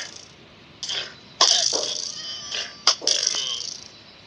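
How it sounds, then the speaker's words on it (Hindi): A cat in a video game lets out a few loud, close, raspy meows and yowls in short separate bursts, with brief quieter gaps between them. "देखो ये बिल्ली वापस आ गई"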